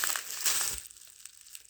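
Plastic packaging on a Christmas parcel crinkles and crackles in a short burst of dry, close rustling that fades into near silence.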